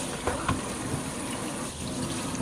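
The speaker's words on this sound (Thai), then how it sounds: "ล้างทำความสะอาดอย่างดีนะคะต้องน้ำอุปกรณ์" Running water splashes steadily from a tap while fish-cleaning equipment is washed, a continuous close gushing with a few small knocks of utensils near the start.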